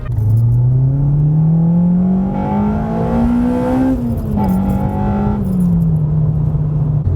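A Honda Civic Type R EP3 with upgraded suspension, clutch and mounts drives on the road, its engine note droning loud and close, rising steadily, dipping as it shifts, then settling back.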